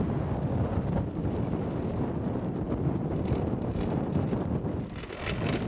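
Wind blows hard on a mountain summit, buffeting the microphone with a continuous loud rumble and gusty rushing that barely lets up, easing slightly at the very end.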